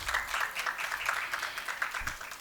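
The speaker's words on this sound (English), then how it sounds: "Big round of applause, everyone." Audience at a co-lending summit session for NBFCs gives a round of applause, with moderate, slightly uneven clapping from a modest-sized room, individual claps discernible in a fairly quiet, steady burst.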